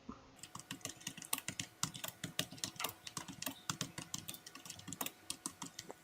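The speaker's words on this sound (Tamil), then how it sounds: "டைப் பண்ண போகிறேன்." Rapid typing on a computer keyboard, a quick, uneven run of crisp close-up key clicks in bursts with short pauses, quiet and alone with no talking.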